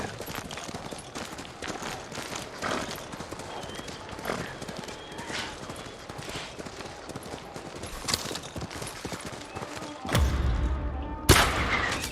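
A horse gallops in the game Ghost of Tsushima, with rapid, steady hoofbeats carrying throughout, brief whinnies, and a few sharp thuds near the end.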